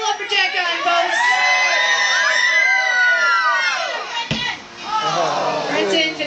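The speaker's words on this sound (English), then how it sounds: "Cheer your lumberjack on, folks." A crowd at a logging camp lumberjack show cheers and whoops loudly, with shouts and children's yells rising and falling, a brief dip, then another burst of cheering.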